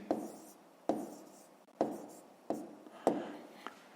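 Numbers being written by hand on paper, a series of five or six distinct scratchy pen strokes in a steady rhythm, close and clear, with no talking over them.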